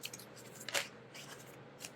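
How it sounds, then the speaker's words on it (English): Travel-size tarot deck being side shuffled, a quiet papery riffle with a brief louder burst in the middle and softer card flicks around it. "it doesn't stick when I do side shuffling"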